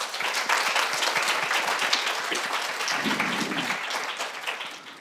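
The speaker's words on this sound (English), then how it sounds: "So I think that deserves a round of applause for those heroes in the room." Audience applause at a rural conference, full crowd clapping that stays strong and close before easing slightly at the end, with a brief low voice-like murmur partway through.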